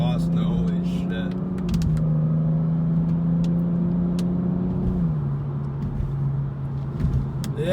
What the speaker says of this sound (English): You heard the exhaust right there, just hitting it down a straightaway.